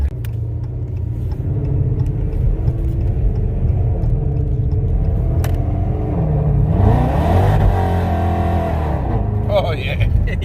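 A Procharged 5.7 Dodge Challenger pulls away at about quarter throttle, its engine rumbling loud and close and building in pitch, with people talking inside the car over it.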